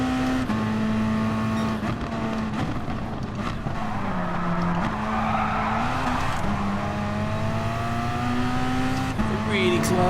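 A racing video game with an Alfa 4C chasing a Corvette, a continuous close engine drone rising and falling through gear changes, with tire squeal and occasional scrapes, under some talk.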